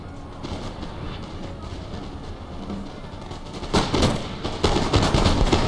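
Musket volleys crackling in a Napoleon Total War battle, a dense rattling din of distant gunfire that swells louder in the last two seconds.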